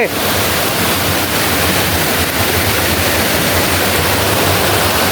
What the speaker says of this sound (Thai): เดิน ลงมาถึง น้ำตก ซับสาแก้ว หรือ น้ำตกกิมไห ที่เรารู้จักกันนะครับ